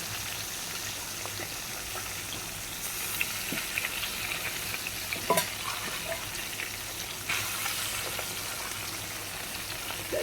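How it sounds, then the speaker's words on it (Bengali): Fish, eggplant, onion and cumin fry in oil, producing a continuous crackling sizzle with light patter and occasional clicks of stirring, steady and close throughout, with no voices. "বেগুন দিছি পেঁয়াজ দিছি জিরা দিছি যে এখন ভাজি করতেছি"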